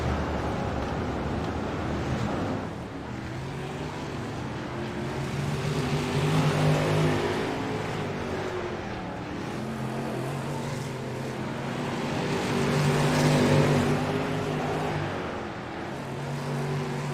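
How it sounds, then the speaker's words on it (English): Race cars in an iRacing Premier Outlaw Series league event accelerate to catch the pace car, their engines droning and rising in pitch as they pass in two swelling waves, steady and moderately loud. "Cars all race to catch up to the pace car."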